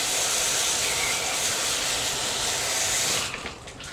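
Running water pours steadily from a tap over a cleaned speckled trout, a loud close hiss that stops near the end and leaves a few splashes and drips.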